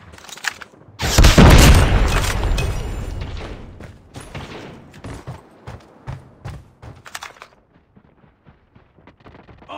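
A frag grenade goes off in Call of Duty on the Nuketown map: one loud, close blast that rumbles and slowly fades, then scattered smaller thuds and pops from the ongoing match.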